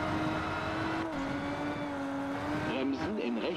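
A steady rally car engine drone from the video game WRC Generations hums continuously with a slight pitch dip midway, then rises and wavers near the end, under faint speech.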